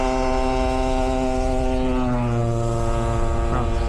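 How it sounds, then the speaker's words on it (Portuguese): An old small motorbike drones past with a steady buzzing engine tone that shifts in pitch as it goes by, loud and continuous, with no talking. "depois que essa motinha velha passou, senão não dá pra vocês me escutarem."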